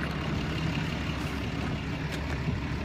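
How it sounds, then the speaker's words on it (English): A 2014 Dodge Ram 4x4 diesel pickup, once a work truck, idles quietly with a steady, low, even rumble and no talking. "I'm sure it's nice to have a nice quiet diesel truck."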